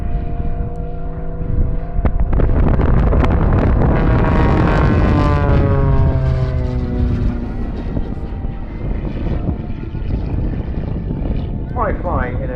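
A Pitts Special aerobatic biplane with a modified rudder performs at the Southport airshow, its propeller engine roaring loud and close with a rising and falling pitch as it passes, while a commentator talks over it.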